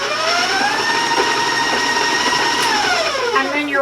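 An electric mixer beats brown sugar, shortening and vanilla for chocolate candy cookie dough, giving a loud, steady, close motor whine whose pitch shifts slightly near the end, with no voices.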